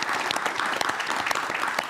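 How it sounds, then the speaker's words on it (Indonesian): A studio audience at a TVRI Yogyakarta talk show claps loudly and steadily, a thick, continuous wash of many hands that stays at an even level. "Tepuk tangan dong"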